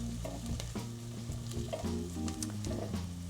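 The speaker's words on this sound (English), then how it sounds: "You can see the onion is starting to soften slightly, but it's not ready yet." Chopped onions sizzle and fry steadily in a pan for risotto, a continuous close crackle with light stirring taps and a low hum underneath, alone without speech.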